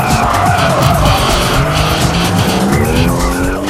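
A race car drifts at Maze Circuit in Niigata, its tires squealing in long wavering screeches over a loud, steady engine roar, close and continuous throughout.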